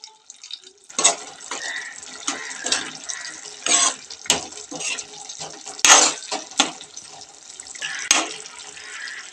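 Tamarind water is poured into a simmering brinjal and dry fish curry, giving splashy bursts of liquid with gentle drips and stirring between them, close and fairly loud.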